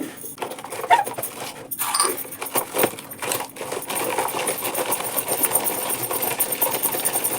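Small onions are chopped in a small hand-operated chopper machine, which makes irregular clattering, rattling clicks and knocks at close range with no talking.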